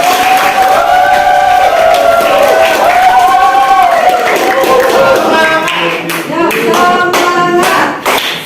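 A classroom audience claps for a student group stepping forward to present, a scattered patter of hands mixed with voices and chatter that thins out near the end.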